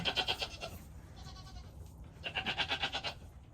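A small goat bleats twice on a farm, each a rapid wavering, pulsing cry, moderately close, separated by a short stretch of quiet rustling.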